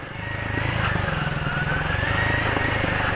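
Royal Enfield Himalayan 450 motorcycle engine droning steadily at close range while riding over steep, rocky, washed-out off-road terrain, with no talk.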